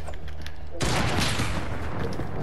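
Gunfire in Fortnite: a quieter lead-in, then a sudden loud burst of rapid shots that keeps rattling steadily to the end, with no speech over it.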